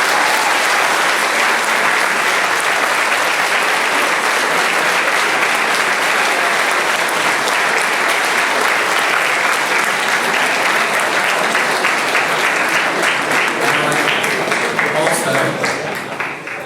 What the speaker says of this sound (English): by way of a massive round of applause